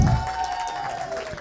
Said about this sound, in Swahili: Makofi ya DJ tafadhali.